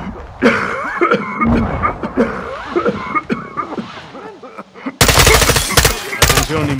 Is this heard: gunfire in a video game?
yes